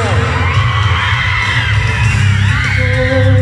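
A dense concert crowd at the Musikalayaan 2022 show shouts and cheers loudly and continuously, with overlapping yells and whoops forming a steady roar.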